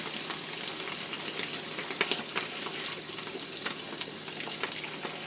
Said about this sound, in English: I'm putting cool water in it